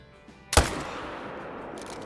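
A single sharp rifle shot at a mule deer in theHunter: Call of the Wild cracks loud and close, then rolls into a long, fading echo across open terrain.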